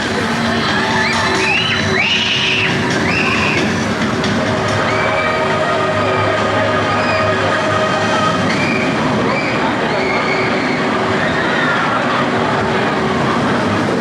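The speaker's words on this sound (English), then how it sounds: "Icon is a fantastic roller coaster." The Icon roller coaster at Blackpool Pleasure Beach roars along its track, loud and close, with a constant rumble, rattling wheels and rising whoosh, and riders scream and shout throughout.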